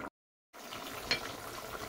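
Gentle bubbling and simmering of plantain stew in a covered pot over medium heat, with a soft, steady hiss after a brief silence, close by and low in volume, with no voices.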